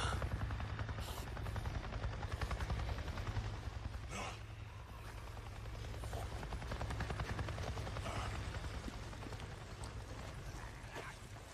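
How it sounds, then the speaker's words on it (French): Helicopter in the video game Days Gone, a steady rapid rotor thump with engine drone throughout, moderately loud and sustained, with faint game effects underneath. "Je viens de voir un putain d'hélico, tu m'entends Un hélico"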